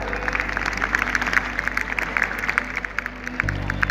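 Students clap together in a steady, moderately loud patter to welcome a chief secretary at a school Republic Day event, with a low hum underneath and a brief change in background tone near the end.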